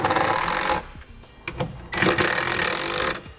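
Nuts are run down onto the bolts of K-Source custom extendable towing mirrors with a close, loud buzzing tool in two long bursts, separated by short clicks and taps.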